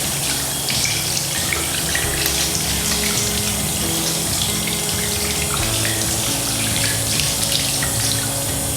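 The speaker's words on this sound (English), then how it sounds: "rinse off with warm water" Warm tap water running steadily into a sink while hands are rinsed, a loud continuous gushing splash with no talking.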